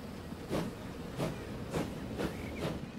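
Trains running on a rail line between Venlo and Roermond in the video game Transport Fever 2, a quiet steady rolling rumble with rhythmic clickety-clack bursts about every half second.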